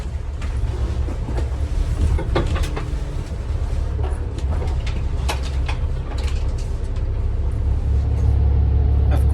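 Riding a Sound Transit Express double-deck bus, run by Community Transit, through Seattle. A steady interior engine rumble and road noise carry on throughout, with faint rattles and clunks.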